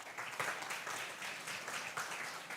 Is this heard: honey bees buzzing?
no